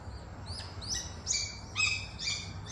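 Several birds chirping and tweeting in quick, high bursts over a low background rumble just after rain, fairly faint and distant.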